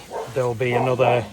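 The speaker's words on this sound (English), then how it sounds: "That's my dog barking at next door's dog." A pet dog barks at the neighbour's dog next door in a short, close run of barks and yips, mixed with someone speaking.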